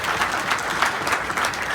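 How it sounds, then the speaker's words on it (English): A brief burst of steady audience clapping at a charity event, moderately loud and continuous for under two seconds. "Let's hear some applause."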